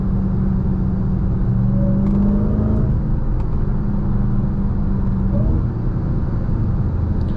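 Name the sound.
Dodge Charger Hellcat Widebody Jailbreak engine accelerating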